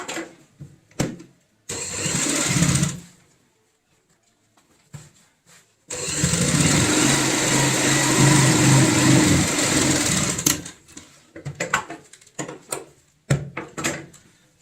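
A sewing machine stitches the lining of a ladies' purse in two motor runs, a short burst and then a longer steady whir of about four seconds, with scattered clicks and knocks of handling between and after, and no speech.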